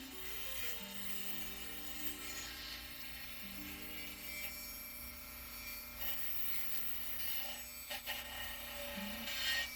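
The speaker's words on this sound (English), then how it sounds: "let's take these rough corners off" A file scrapes the rough corners and sharp edges off a sharpening stone in rapid rasping strokes, close and fairly quiet, with a faint background hum.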